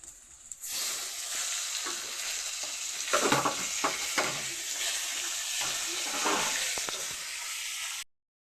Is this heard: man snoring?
no